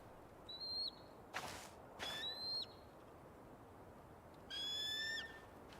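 An eagle in the Tell Me Why video game gives several high whistling screeches, three separate calls spaced across several seconds, with the last one long and loud, set against a faint outdoor hiss and a couple of sharp clicks.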